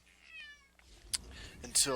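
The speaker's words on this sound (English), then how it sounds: "sorry, the cat." A house cat meows a few times, close by and fairly loud, with a person talking around the calls.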